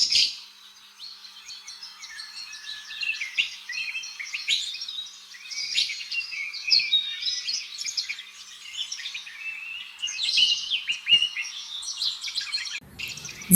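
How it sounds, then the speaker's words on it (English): Bright chirping birdsong from a kingfisher, a steady stream of sharp, high calls and trills running throughout at moderate loudness with no talking. "K for kingfisher."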